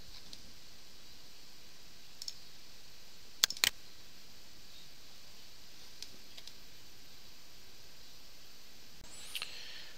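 A mouse clicks on an OK button in eXPert PDF 5 software: a quiet room with a few soft isolated clicks and one sharper quick double click near the middle, with no talking.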